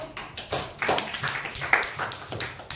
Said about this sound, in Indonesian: Iya, beri aplaus supaya